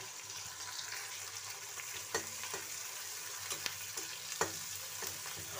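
Panch phoron, green chillies and onion fry in oil for a vegetable sabji of cauliflower, potato and peas, giving a steady soft sizzle with a few sharp pops and occasional spoon stirs, no one talking.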